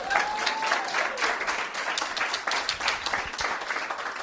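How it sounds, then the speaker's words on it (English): A live show audience gives a round of applause, dense lively clapping with some crowd murmur, loud and sustained throughout. "Round of applause, I think, don't you?"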